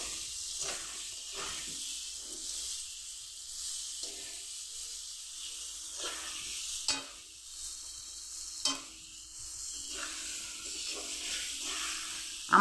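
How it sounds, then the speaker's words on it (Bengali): Mango pieces stir-frying in a pan with turmeric and salt, a loud continuous hissing sizzle broken by repeated scraping stirs, close and without talk. "এখন এগুলো ভাজতে থাকবো"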